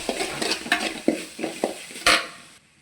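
Tomatoes frying in oil in a pan while being stirred: soft sizzling beneath a series of close, irregular scrapes and knocks of the spoon, ending with one louder clatter before the sound drops away.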